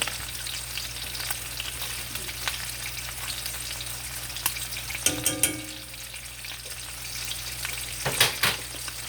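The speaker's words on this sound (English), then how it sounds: "we'll put some Creole seasoning on it and let it keep browning" Steak dusted with Creole seasoning browns in a pan, giving a steady, close frying sizzle that runs throughout, with a brief clatter of utensil contact midway and again near the end.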